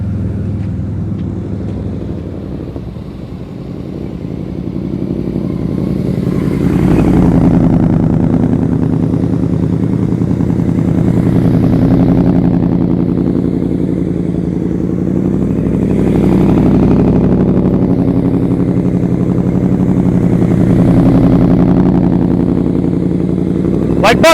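A motorcycle engine rumbles steadily at low speed during slow-speed riding practice in Maryland, swelling and easing with the throttle over a long stretch, with an instructor's voice faintly present.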